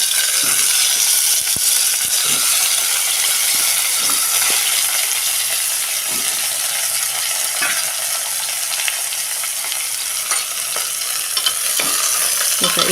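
Eggplant pieces fry in a pan with garlic over lowered gas for a Maharashtrian vangyachi bhaji. A constant close sizzle runs under repeated scraping stirs and clinks of a spatula against the pan.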